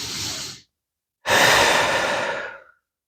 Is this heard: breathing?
yes